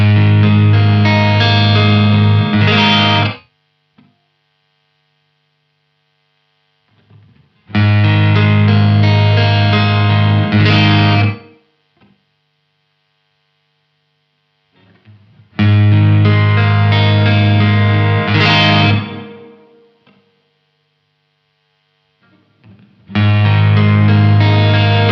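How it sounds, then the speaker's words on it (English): Guitar chord stabs played through a Keeley Omni Reverb pedal, four loud strummed bursts each a few seconds long, separated by gaps where the reverb tail rings out and decays. "we're really getting everything from a super tight room sound all the way up to a very large room bordering on a small hall type reverb"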